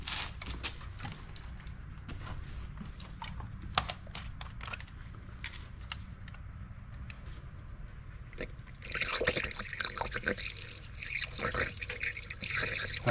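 Coolant drips and gurgles while a 1999 Honda Civic's radiator system is burped after a radiator replacement, with scattered close trickling sounds that swell into louder, denser bubbling toward the end.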